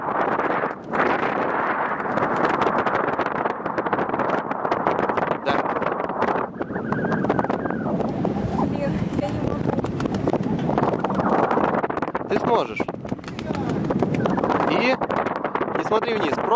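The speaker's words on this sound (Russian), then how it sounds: "Ветер усиливается" Strong wind roars across the microphone on a 50-metre jump platform, a steady loud rush with gusty buffeting throughout, while people talk over it.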